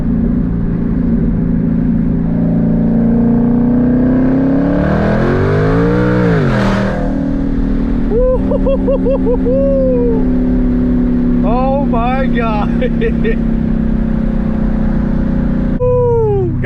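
Twin-turbo Ford Mustang with exhaust dumps accelerating hard through the gears, a loud sustained engine drone rising and falling in pitch with turbo whistles and chirps, a voice briefly speaking over it.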